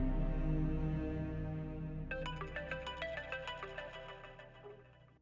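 A phone rings with a bright electronic tone that repeats in a steady pulsing pattern, over a low background hum.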